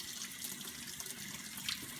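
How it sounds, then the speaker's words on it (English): Cold tap water runs steadily as makeup brushes are rinsed under a faucet, a soft continuous hissing stream heard alone. "I'm going to give it a little rinse with some cold water"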